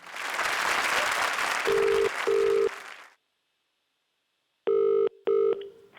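A telephone rings in short paired bursts for a live prank call on a comedy stage show, first under loud applause and crowd noise, then alone after a sudden silence.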